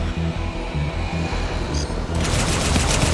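Sustained rapid gunfire from a firefight in the video game Halo 5: Guardians, dense bursts under a low rhythmic musical score, intensifying into a loud continuous barrage near the end.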